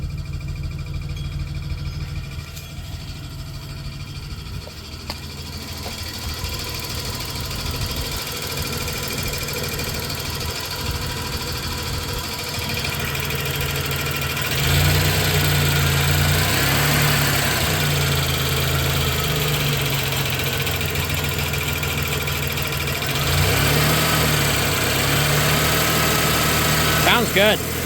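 An abandoned 1991 Dodge Grand Caravan engine idles steadily with a low throbbing rumble, a light knock and vibration, close and continuous, with a voice speaking briefly over it.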